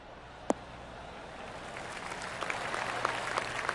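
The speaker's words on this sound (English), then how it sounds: "That deserves a golf clap." Light golf-clap applause from a gallery in the PGA 2K23 video game after an approach shot into the 18th green: one sharp clap, then scattered claps slowly building over a soft background hum.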